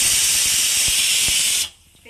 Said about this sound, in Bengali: প্রেসারে দিয়ে দিলাম, মাংসটা হচ্ছে